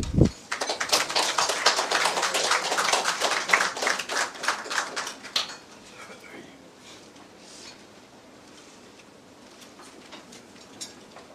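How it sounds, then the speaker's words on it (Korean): Applause from a seated audience at a corporate forum on social value, welcoming a chairman's lecture: a dense burst of many hands clapping that builds quickly, holds for several seconds, then fades out into quiet room tone. "우리 박수로 회장님 강연 모시겠습니다."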